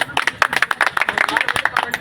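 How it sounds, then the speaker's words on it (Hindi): Loud, close clapping from an audience at a speech, a rapid uneven patter of many hands that stays dense throughout the short burst. "उसके लिए जोरदार तालियां बजा दो"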